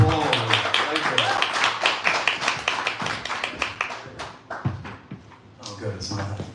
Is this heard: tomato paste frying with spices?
no